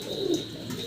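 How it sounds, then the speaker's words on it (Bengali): A pair of Archangel fancy pigeons cooing softly in a low, continuous murmur, close by with no talking. "দেখেন চমৎকার এক জোড়া আর্চেঞ্জেল কবুতর"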